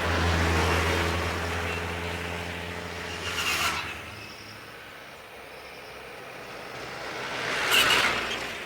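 Roadside traffic where trucks pass: a loud engine drone fades away, then two vehicles whoosh by near the mic a few seconds apart, each swelling and dying off.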